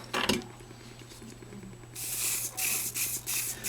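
Hairspray hissing from an aerosol can onto model tree foliage: a steady broadband spray starting midway and continuing in several pulsing bursts, close and moderately loud, after a few faint handling rustles.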